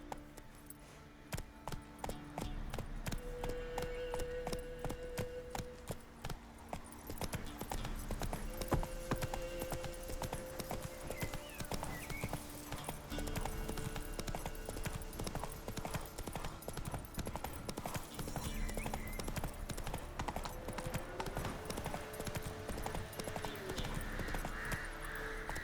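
Horse galloping in The Witcher 3, a steady rapid clip-clop of hooves running throughout at moderate volume, with soft game music underneath.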